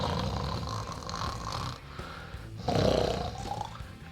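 A man imitates loud snoring with his voice, producing a drawn-out rasping rumble followed by a louder, harsher snort-like burst.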